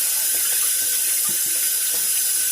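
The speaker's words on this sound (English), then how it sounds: "I want it to rinse till the water's clear and don't have no more starch in it." Running water pours steadily from a tap into a bowl of potatoes in a sink, rinsing off starch, with a constant rushing hiss and faint splashes and clinks, no voices.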